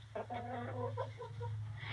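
Chickens clucking close by in a -20 F cold snap, a short run of soft throaty clucks over a steady low hum.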